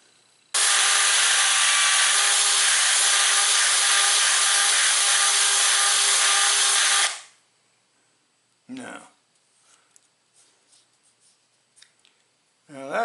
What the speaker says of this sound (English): now I'm going to take my drill and drill a hole through the spacer.